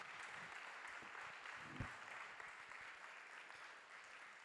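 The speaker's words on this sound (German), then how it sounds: "Applaus, danke an euch." Audience applause at the close of a talk at an open hardware conference, steady dense clapping from a crowd at moderate level, continuous with a few louder claps.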